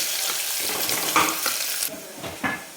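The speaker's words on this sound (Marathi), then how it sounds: "याला चांगला आपण सोनेरी कलर पण परतून घेणार आहे" Medium onions are sautéed in a pan until golden for tawa mutton, with a steady crackling sizzle and a few spatula scrapes and stirs, close by and without talk.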